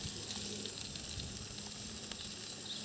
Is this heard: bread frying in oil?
yes